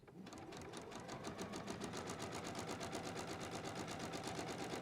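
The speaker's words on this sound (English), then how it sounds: "I am going to stitch across here using quarter inch as my regular seam" A sewing machine runs a quarter-inch seam across quilt pieces, its needle hammering in a fast, steady rhythm that speeds up and then holds even and close.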